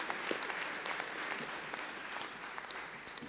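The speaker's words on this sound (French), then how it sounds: "on peut l'applaudir." Audience applause at an anniversary event in Paris, a steady wash of clapping holding at moderate level throughout, fairly distant-sounding with a few sharper claps standing out.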